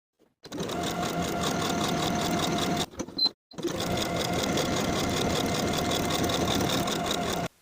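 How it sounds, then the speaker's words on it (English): Electric sewing machine stitching buttonholes on a blouse placket, a steady close whirring drone that runs continuously, halts briefly near the three-second mark, then resumes at an even pace until the end. "Now I'm ready to sew each of my buttonholes in place."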